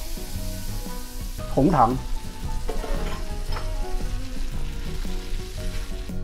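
Butter and brown sugar sizzle in a pan while bananas are being cooked, a steady close frying crackle with a louder burst early on, and a few short spoken words over it.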